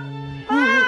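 A kitten meows in a VR rescue prank, two close, clear calls: a steady high mew followed after a short gap by a louder, rising and falling cry.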